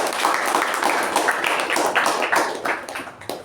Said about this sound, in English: give a round of applause to all the role takers